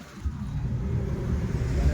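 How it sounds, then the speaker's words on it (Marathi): A car setting off, its engine rumbling low and rising slightly as it pulls away, steady and close with road noise underneath. "आता आपली गाडी निघालेली इथं"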